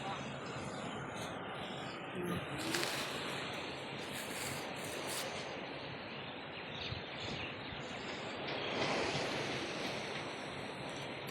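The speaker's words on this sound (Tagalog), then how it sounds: "dito tayo sa dagat" Ocean waves wash continuously onto a beach in Hong Kong, a broad steady surf roar with gusts of wind and a passing aircraft hum in the background, swelling louder toward the end.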